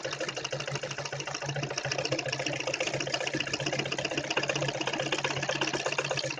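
A sewing machine stitches the neckline of a designer garment, its fast, even needle hum running continuously and close throughout with no voices.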